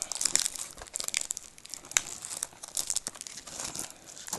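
Plastic wrap crinkles and tears as it is peeled off a UK Blu-ray case, a steady run of close, crisp crackles across the whole stretch with no talking.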